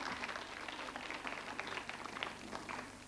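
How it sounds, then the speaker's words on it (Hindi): Applause from an audience at a college quiz show, a soft, fairly distant patter of clapping that holds steady for a few seconds with no voices over it. "तालियां जोरों से बजती रहनी चाहिए"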